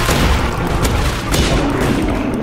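Heavy gunfire in a shooter video game, a loud continuous barrage of booming shots with no voices.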